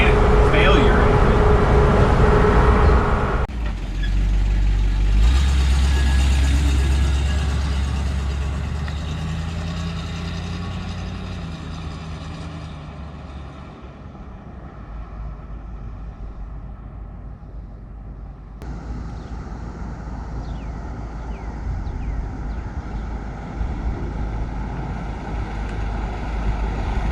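Old truck engine rumbling at idle and then pulling away, a steady low drone that shifts as it drives, heard close with changing road noise.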